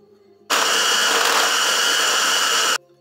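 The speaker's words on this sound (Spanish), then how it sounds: "Ahora en una picadora vamos a ir echando un poquito." A kitchen food chopper whirs steadily for about two seconds while chopping chicken for homemade nuggets, starting and stopping sharply, loud and close with no talking.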